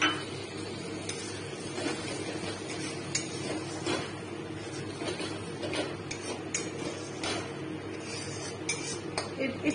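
A spoon scrapes and clinks around a pan of prawn curry with coconut milk as it is stirred, giving steady soft scraping with scattered light metallic ticks under a low background hum, no voice.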